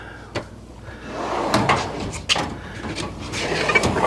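Metal drawers of a mechanic's tool chest slide open and shut in a garage, several sharp rolling clunks and rattles at uneven intervals, close by, with faint background noise between them.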